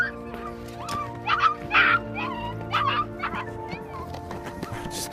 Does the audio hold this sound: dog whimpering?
yes